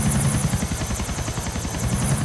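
Helicopter in a GTA video game, its rotor chopping in a fast, steady rhythmic thud with a buzzing engine whine, loud and close throughout.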